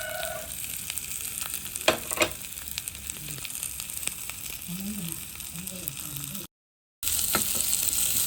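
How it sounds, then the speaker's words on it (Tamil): Dried chillies and onion frying with mustard seeds in hot sesame oil: a steady, soft sizzle and crackle runs throughout, with a few louder pops and a brief dropout near the end. "கடுகு வடிச்சிட்டு இப்போ செத்தமிளகாயும் வெங்காயத்தையும் போடுறேன்."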